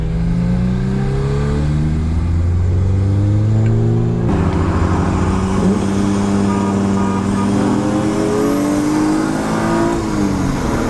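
A BMW E36 M3 engine pulls hard in third gear during a street race against a VW Golf, a loud, close, continuous roar that climbs steadily in pitch, eases briefly near the middle, then keeps rising again, with no talk over it.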